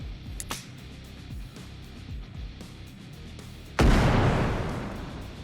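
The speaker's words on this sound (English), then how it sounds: "We've also improved our M67 frag grenade animations and effects, have added in the F1 fragmentation grenade" An M67 frag grenade in the game Bellum goes off with a sudden, loud, broad blast that trails into a long rumbling decay, preceded by a few faint clicks and low thumps of distant fighting.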